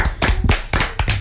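Children and an audience clap in a radio-television studio, loud close bursts of hand claps in a few uneven clusters with short gaps between them.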